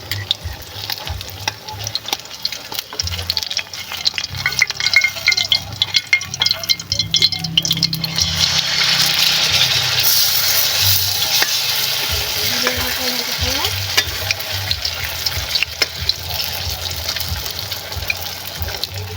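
Bananas frying in a pan (Filipino pritong saging), a steady close sizzle with stirring and turning noises throughout, louder and denser in the second half, no talking.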